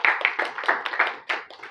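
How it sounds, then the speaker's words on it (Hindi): A small group in a classroom claps for the class topper, Archana Kumari, a close, sparse patter of hand claps with uneven rhythm lasting under two seconds. "ताली बजाइए"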